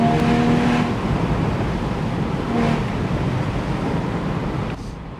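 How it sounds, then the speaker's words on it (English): A Porsche Spyder's engine and standard exhaust drone steadily at moderate loudness, with a brief tonal rise in pitch near the start and again mid-way, then a drop in level at the end. "I think Porsche have done a fantastic job on how they've tuned that engine, the sound and the exhaust system as standard."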